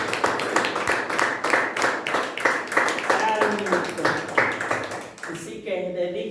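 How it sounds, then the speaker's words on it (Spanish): A church congregation claps in a steady, rhythmic beat for about five seconds, close and fairly loud, then a voice speaks as the clapping stops. "Denle un aplauso a nuestro Señor Jesucristo."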